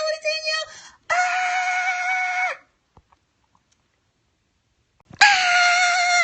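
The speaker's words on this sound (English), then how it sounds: "That was my scream." A woman's loud, sustained scream in two long bursts separated by a few seconds of near silence, close and harmonic with a rough, strained edge.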